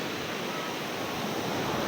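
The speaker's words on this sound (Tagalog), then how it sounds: "Ayan o, ang lalaki ng alon o." Large, dangerous ocean waves surge in a continuous broadband roar along a beach, steady and loud throughout with no voices or distinct breaks.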